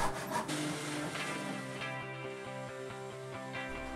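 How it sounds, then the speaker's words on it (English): Sanding the edge of a wooden nightstand into a curve, a steady abrasive rubbing that runs continuously at close range with a tonal power-tool hum beneath, no talk. "Then sanding it to a nice curve."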